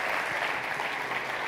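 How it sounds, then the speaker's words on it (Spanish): Audience applause following a talk at a university entrepreneurship event, a steady dense wash of many hands clapping throughout, fairly loud and close with no voices on top. "Bueno, un aplauso."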